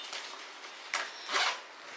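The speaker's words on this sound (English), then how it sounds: "There's a front zipper" A zipper on the front pocket of a camera bag is pulled in a few short raspy strokes, close and fairly quiet with brief pauses between them.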